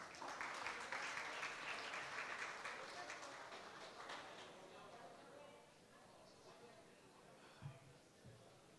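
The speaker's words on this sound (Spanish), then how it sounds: "Recibamos con un fuerte aplauso" Audience at a tourism forum in Azuero applauds to welcome a speaker, a quiet, distant patter of clapping that fades out over several seconds, followed by soft room noise and a couple of faint knocks.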